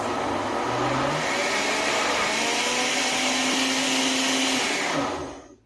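A blender whirs steadily at close range as it purees hot soup ingredients for sopa tarasca, stepping up from speed 2 to speed 3, then quickly winds down at the end.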